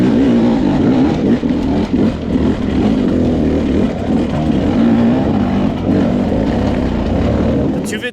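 A Beta 250RR two-stroke dirt bike engine revs hard and close, a loud continuous buzzing drone rising and falling under someone talking over it.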